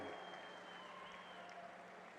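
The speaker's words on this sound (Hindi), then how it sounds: "अपने स्थान पर खड़ा होकर जोर से ताली बजाकर धन्यवाद करिए" A political rally crowd in Telangana stands and claps, making sustained, even applause that sounds somewhat distant and faint, with a steady tone and voices underneath.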